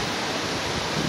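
Golling Waterfall in Austria roars nearby as a constant, dense wash of rushing water that fills the whole moment without letting up, heard from a wet forest path beside the falls.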